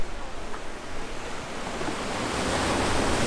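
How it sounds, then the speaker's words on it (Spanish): Ocean waves break and wash steadily onto a Tenerife beach, a continuous broadband roar of surf with some wind noise on the microphone, swelling slightly louder toward the end, with no voices. "Y mirad las olas."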